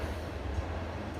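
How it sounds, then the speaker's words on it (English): A train rumbles past outside in California, a steady, broad roar with low rolling wheel noise, continuous and fairly loud. "you can hear the train going by"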